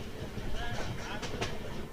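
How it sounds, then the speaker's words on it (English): Train rolling along its rails through green countryside after crossing a bridge, a steady broadband rumble with faint rhythmic clatter, heard close from inside the carriage with speech over it. "Train is moving smoothly"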